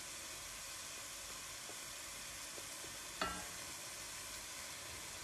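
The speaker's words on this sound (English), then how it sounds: "Give that a good stir." Sliced leeks and garlic cooking in a pot, a faint soft sizzle and hiss with a few light scrapes and one brief clink of a spoon against the pot as they are stirred.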